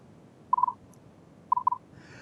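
Two pairs of short, clean tones mark off two brief time intervals in an interval discrimination task, the first pair at about half a second and the second a second later, sounding alone over quiet background hiss.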